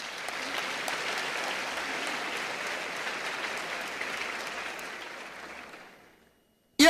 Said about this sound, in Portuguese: Pode aplaudir que isso é de vocês.